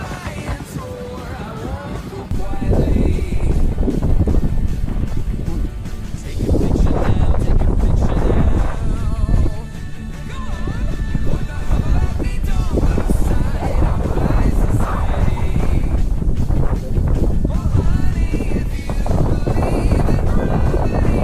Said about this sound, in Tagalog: hindi ko sana naramdaman yung gantong kalakas na hangin